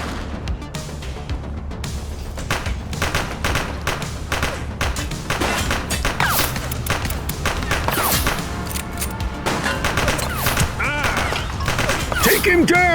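Dense, loud gunfire from a police shootout in The Precinct video game, rapid overlapping bursts and thuds continuing without pause, with shouted voices mixed in among the shots.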